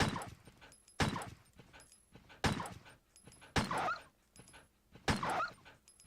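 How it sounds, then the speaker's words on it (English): A dog in the game Resident Evil (1996) barks and yelps in five loud, sharp bursts, roughly one every second, with a brief whimpering tail after each. "the fucking dog's in here"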